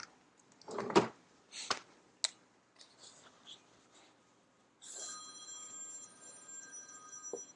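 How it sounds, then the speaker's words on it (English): A telephone starts ringing about halfway through, a sustained electronic tone that runs to the end, after earlier scattered clicks and marker-scratching sounds on a quiet late-night desk. "I can't take this phone call right now."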